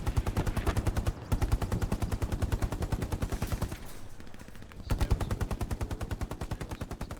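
Sustained rapid machine gun fire in the WWII game Hell Let Loose, a dense steady stream of shots with a brief lull mid-clip before the burst resumes, loud and close.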